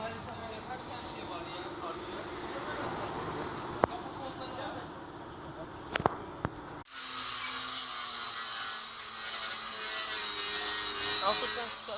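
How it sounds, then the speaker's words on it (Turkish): Abrasive sanding on the damaged body panel of a Peugeot 307 during bodywork repair, a steady loud rasping that starts abruptly partway through and continues to the end, with quieter workshop noise and a few sharp knocks before it. "Önce zımparalayıp temizleyeceğiz burayı."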